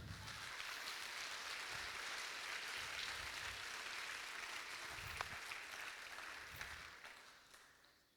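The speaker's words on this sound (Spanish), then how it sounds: "Denle un aplauso al Señor" A church congregation claps together during a Spanish-language service, a broad, even wash of applause heard from a distance that holds for several seconds and tapers off at the end.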